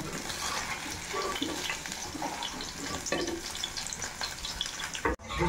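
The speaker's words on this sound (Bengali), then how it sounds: "দেখুন পনিরগুলো হালকা করে ভাজা হয়ে গেছে, লাল হয়ে এসেছে" Steady, close sizzling of paneer frying in a hot pan, continuous and even, with no voices.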